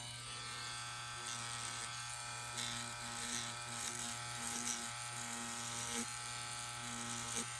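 A Yuelong tattoo machine from an inexpensive kit running at full speed, a steady high-pitched electric buzz with an even hum throughout, heard close while someone talks intermittently.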